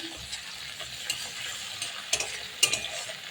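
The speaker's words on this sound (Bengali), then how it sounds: "সস দিয়ে একটু নেড়ে চেড়ে" Pasta being stirred with sauce in a hot pan: soft, steady sizzling with a few sharper scraping clicks from the utensil, close up and without talking.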